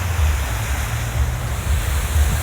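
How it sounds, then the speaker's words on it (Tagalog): A park fountain in Yamashita Park splashes with a steady, dense rush of water, close and loud, forming an even wash of noise with no voices. "Punta tayo dito sa fountain na wah, grabe yung tubig niya."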